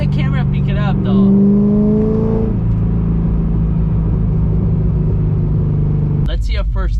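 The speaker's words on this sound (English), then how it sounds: "Let's see a first gear pull here" An LS2 V8 car engine with newly installed headers rumbles loudly up close, its tone rising briefly before settling into a steady heavy drone, with a voice speaking near the start and end.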